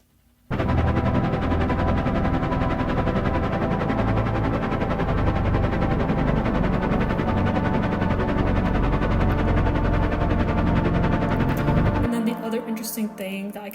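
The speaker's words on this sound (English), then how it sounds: "all together, the synths sound like this" Drum and bass synths playing together in a full, dense mix that runs loud and steady for about twelve seconds, heavy low end pulsing under bright layered tones, then dropping away to a thinner tail.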